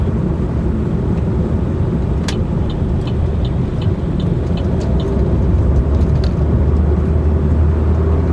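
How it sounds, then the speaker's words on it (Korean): A manual-transmission car pulling away in second gear at low speed, with a steady engine and road rumble heard from inside the cabin and a few faint ticks and clicks on top. "2단 넣으면 시동 안 꺼지고 이렇게 움직일 수 있습니다"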